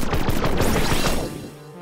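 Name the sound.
gunfire shooting in the video game Nova Lands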